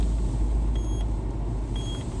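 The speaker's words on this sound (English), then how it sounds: "I thought the car had suddenly grown reversing beepers. It's not, I'm out of petrol." Car warning chime signalling it is out of petrol, two evenly spaced high beeps sounding over a loud, steady engine and road rumble.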